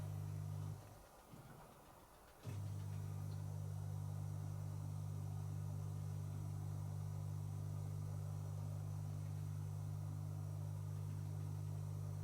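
An appliance set to a spin-only cycle starts up after a brief lull and settles into a steady, even low hum that runs unbroken to the end, with no voices.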